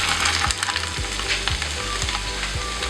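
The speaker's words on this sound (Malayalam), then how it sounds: "ഈ ബാക്കിയുള്ള ഈ മസാല ഓയിലിലേക്ക് തന്നെ ഈ ഒനിയൻ ചേർത്ത് കൊടുക്കുകയാണ്." Chopped onion frying in leftover masala oil from a Kerala-style prawn roast, with a steady loud sizzle and crackle close up and periodic scraping stirs about every half second.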